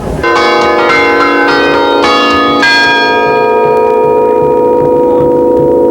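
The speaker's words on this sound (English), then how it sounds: "The bell wagon was built in 1892 by the Moeller brothers of Baraboo" Several bells on an 1892 circus bell wagon ring in a quick series of loud, bright strikes, then the tones hang and ring out, fading slowly.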